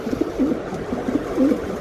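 Club racing pigeons cooing close up, a quick series of short, warbling throaty coos over a steady low background hum.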